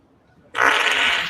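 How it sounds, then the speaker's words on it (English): A single loud, close fart bursts in abruptly after a near-silent start and holds steady as a sustained rasp for most of a second. "Spoiler alert. He's going to fart."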